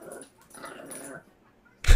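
A dog whimpering in soft, hesitant whines that trail off into a pause, then a sudden loud thump or bark-like burst right at the end.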